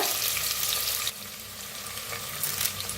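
Cumin, chopped onion and asafoetida frying in hot oil for masala rice, a steady close sizzle that drops to a quieter crackle partway through, with no talking.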